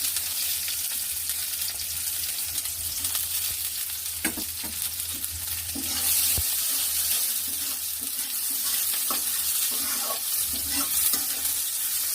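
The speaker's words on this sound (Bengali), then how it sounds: "তেল দিয়ে দিচ্ছি এবার আমরা পেঁয়াজগুলোকে ভেজে নেবো" Onions frying in hot oil in a home kitchen pan, a steady broad sizzle running the whole time with occasional stirring clinks and scrapes.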